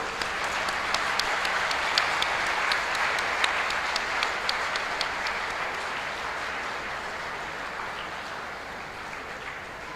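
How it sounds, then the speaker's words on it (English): An audience at an international environmental law conference in India breaks into sustained applause, dense and even, with a few sharper individual claps standing out, gradually easing off over ten seconds. "may we have a huge round of applause"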